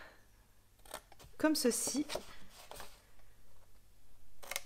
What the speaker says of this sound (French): on prend nos ciseaux.